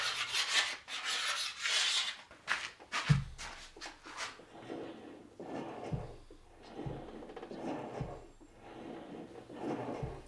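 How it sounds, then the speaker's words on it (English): Pocket knife scraping the limb of a Pacific yew self bow, a series of short rasping strokes in irregular bursts, close and fairly quiet, with no talking. "A few scrapes with a pocket knife ought to round that out nicely."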